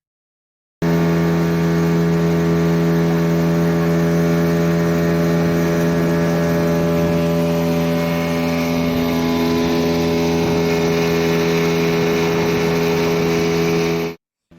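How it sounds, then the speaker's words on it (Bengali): A speedboat in the Andaman Islands runs at high speed, its engine a loud, continuous droning hum with strong steady tones that holds for most of the clip before cutting off abruptly near the end. "এই যে আমাদের স্পিড বোট তুফান একদম তুফানি স্পিড নিয়ে এগিয়ে চলেছে"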